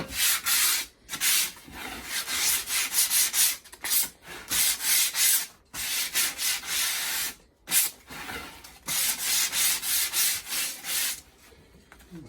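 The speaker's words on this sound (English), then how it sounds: "we're going to take and clean up the edges on this panel. I think this is 120 grit sandpaper" A hand rubbing 120 grit sandpaper along the edges of a frame panel, rapid rhythmic back-and-forth scratching in close bursts separated by short pauses.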